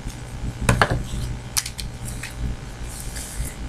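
Scissors snip through hemp cord for a bracelet, giving a couple of sharp close cuts near the start and lighter clicks after, over a low background rumble.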